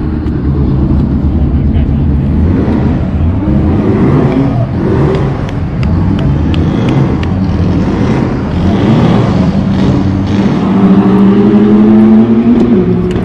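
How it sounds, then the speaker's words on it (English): Hot VW street cars launching and accelerating hard in a drag race final, with loud engines climbing through the gears close by and people talking and shouting over the roar. "Oh! Wow, what a drag race!"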